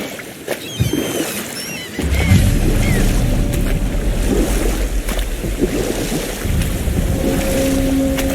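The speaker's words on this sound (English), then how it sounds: "Keep rowing towards the statues of the oarsmen," A boat rowed across open water in the God of War video game, with splashing strokes and wave wash over a steady windy roar and a few bird-like calls early on.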